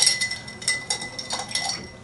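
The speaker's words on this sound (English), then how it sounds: "strain your Manhattan" Ice clinks against glass while a Manhattan cocktail is strained, giving light, irregular tinkling taps close by with no talking.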